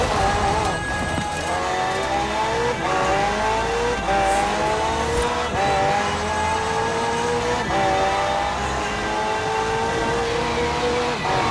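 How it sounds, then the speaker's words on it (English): A McLaren twin-turbo V8 hybrid in Forza Horizon 4 screams through repeated rising revs and upshifts, loud and close and steady throughout, with faint tire noise underneath. "The car's blistering performance is delivered by a twin-turbo V8, supplemented by a McLaren ECU electric motor and instant power assist system"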